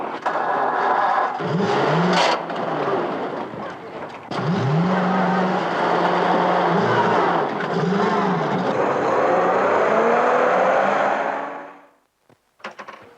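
An old lorry engine starts, idles and revs up as the vehicle pulls away in 1949 England, a loud rumbling drone with shifting tones that cuts off abruptly near the end.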